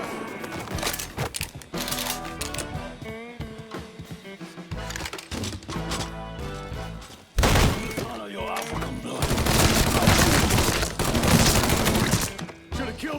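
Gunfire in the video game Mafia III: dense bursts of shots and thuds over a busy layered backdrop, with voices shouting in between.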